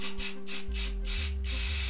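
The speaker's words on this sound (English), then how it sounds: "It's time to use flat black primer." Aerosol can spraying flat black primer onto a sanded 3D-printed build, in several short hissing bursts close by, with a steady low hum underneath.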